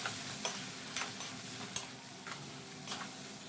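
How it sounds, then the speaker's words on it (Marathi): Quiet scraping and light taps of a spoon stirring colocasia stem stir fry in a pan, with soft sizzling underneath and a few sharper clinks spaced unevenly. "मिक्स करया."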